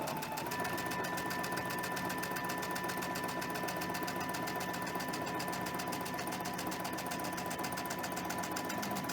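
A sewing machine stitches quilt fabric pieces for a half-square-triangle tree quilt, running in a steady, even whir without a break at close range.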